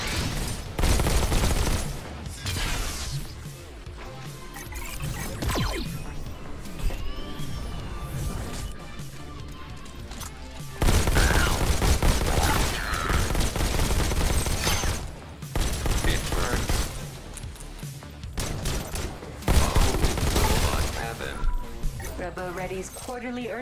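Loud bursts of shotgun fire and smashing impacts in the Robo Recall VR game, repeated blasts over a busy mix of crashes and game noise, with a voice talking at points.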